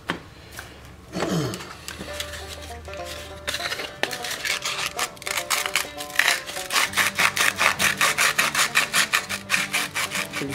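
Hand sanding with sandpaper and a homemade cleaning tool on a Porsche 996 Turbo coolant pipe fitting, with scratchy rubbing that settles into fast, steady rhythmic strokes, close and fairly quiet.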